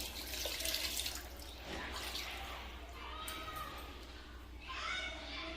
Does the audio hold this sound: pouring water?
yes